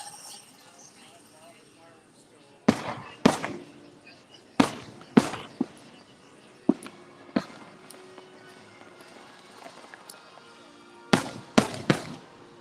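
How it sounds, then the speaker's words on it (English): Fireworks bursting over a Disney park at night, sharp booms arriving in scattered clusters with quieter crackles between, heard from the crowd below amid footsteps and a voice speaking. "I'll try to show you fireworks while I walk backwards"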